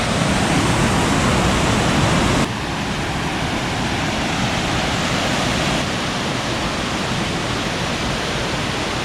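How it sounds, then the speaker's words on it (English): Steady, loud broadband rush of falling water, a continuous roar with no pauses, slightly dropping in level partway through. "here's the final waterfall"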